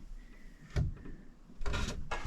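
A tight-fitting wooden drawer in a waterfall bureau is pulled out, giving a brief knock followed by a longer rough wooden scrape, near and fairly loud over quiet room noise.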